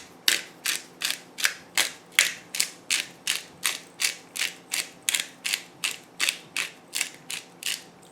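A pepper mill grinds pepper over a vegan olive cake, a steady ratcheting crunch repeated in about sixteen even twists, close and clear with no talking.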